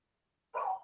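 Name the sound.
dogs barking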